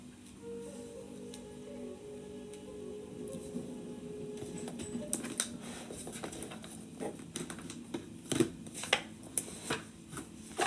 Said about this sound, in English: just seeing as I was shuffling the deck here